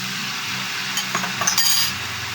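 Metal utensil scrapes and clinks against a pan while beef cubes are stirred into a vegetable filling for lumpiang gulay, a few soft clatters over a steady low background hum.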